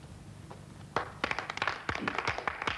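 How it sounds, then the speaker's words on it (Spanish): A small audience in a bullring claps in scattered, irregular bursts, the quiet slaps growing busier after the first second and continuing without talk. "Oye, nos aplauden y todo."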